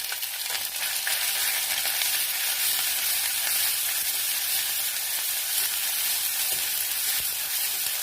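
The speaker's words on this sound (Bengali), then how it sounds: "তারপরে আমি পেঁয়াজ ভাজা অ্যাড করলাম।" Chopped onions, with cinnamon and dried red chillies, sizzle in hot oil in a pan for a Bengali katla fish tomato gravy: a steady, close, bright frying hiss that runs unbroken throughout with no voices.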